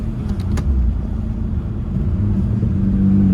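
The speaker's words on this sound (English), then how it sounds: "now you can hear audible change in the exhaust. It got a little louder." A car exhaust with its valve opened, rumbling steadily at idle, low and loud, growing slightly louder toward the end.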